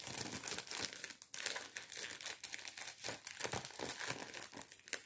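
A plastic gift bag is crumpled and squeezed to push out air, giving continuous crackly crinkling close to the ear, uneven and busy throughout, with no talking.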